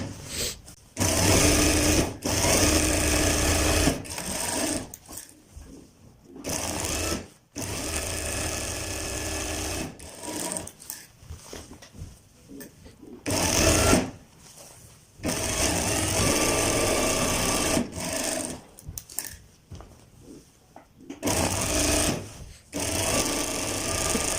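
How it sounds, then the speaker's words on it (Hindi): A sewing machine stitches the lower sleeves of a kalidar kurta, running in loud, close bursts of steady whirring broken by short pauses to turn the fabric. "अब दोस्तों हमने जो नीचे हमारे बाजू हैं इनको हम इसी तरह सिलाई लगा लेते हैं ताकि ये हमारे पक्के हो जाएं।"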